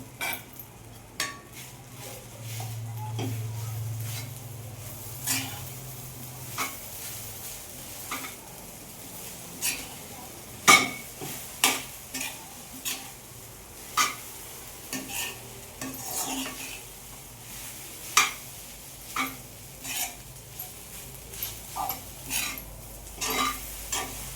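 Boiled potatoes stirred in a pan for a Mahashivratri fasting thali: steady, repeated scraping clicks of a spoon against the pan over a soft frying sizzle, close up with no talking.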